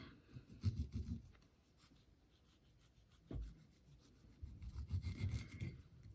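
A knife slices into a kiwi in a quiet room, producing soft, close rasping and rubbing cuts in two short bursts separated by a near-silent pause, with one brief tap in between.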